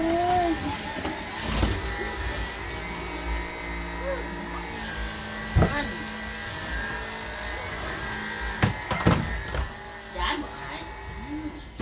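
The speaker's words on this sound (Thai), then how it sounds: "สมดื้อกลัวเครื่องดูดฝุ่น" A household vacuum cleaner runs steadily for about twelve seconds, giving a constant motor hum and whine, while a child and other people talk and call out over it.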